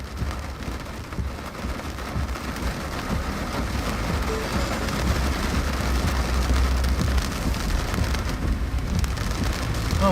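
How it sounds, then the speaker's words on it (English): Steady, heavy rain pours down continuously during a storm in upstate New York, a dense hiss with low rumbling underneath, no voices. "Here it comes. Rain's moving back in."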